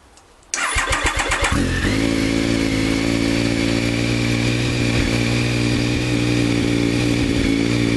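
A Triumph Sprint 955i motorcycle engine cranks briefly, catches and settles into a loud, steady idle that runs continuously close by, with no talk over it.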